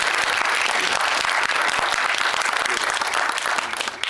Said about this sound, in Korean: 두 분 고생하신 두 분에 큰 박수